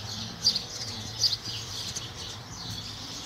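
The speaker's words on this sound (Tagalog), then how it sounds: "ipamati sa inyo sa ang tingog sa gawas, no, kasama ang mga huni ng ibon." Birds call outdoors at sunset during daylight saving time in New Zealand, a few faint, short chirps over a soft, steady background hum.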